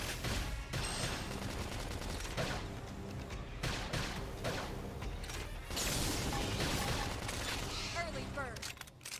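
Rapid gunfire and explosive combat effects from the video game Xenoblade Chronicles X, loud bursts of shots and mechanical clatter layered over game music and battle sounds.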